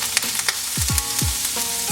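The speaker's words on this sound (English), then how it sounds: "I'm going to melt the butter first. Then I'm going to be throwing in all the vegetables together." Vegetables sizzle as they hit melted butter in a hot pan while cooking a seafood pan roast, giving a steady close frying hiss with several sharp crackling pops, and no talk.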